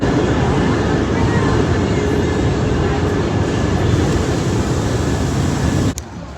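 A train at Newark station, heard as a loud, steady rumble with broadband rail and wheel noise that drops away abruptly near the end.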